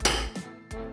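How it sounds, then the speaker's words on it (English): Two sharp hammer strikes on wood trim land about a third of a second apart, each a solid knock with a brief ringing tail. "I'm gonna get the pry bar, the hammer, and we're gonna whack it a couple times"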